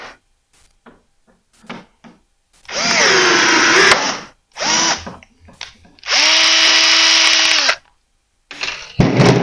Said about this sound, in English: Got this blind rivet drill adapter